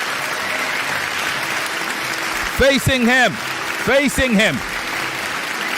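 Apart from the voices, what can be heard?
audience applause for a debater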